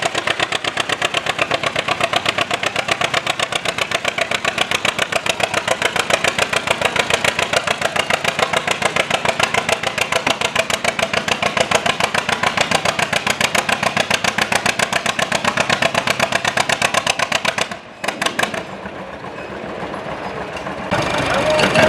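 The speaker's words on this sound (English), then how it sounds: "John Deere 3010." A John Deere 3010 tractor at a county fair runs with a steady, loud, pulsing engine drone, close by, and the rhythmic chug holds for most of the stretch before briefly dipping and resuming near the end.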